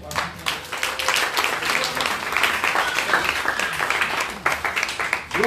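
A church congregation bursts into sustained applause, dense clapping filling the room at a steady loud level for several seconds, with a brief swell near the end.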